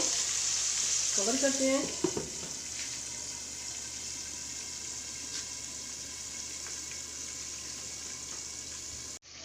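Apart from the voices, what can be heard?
crispy fried chicken frying in oil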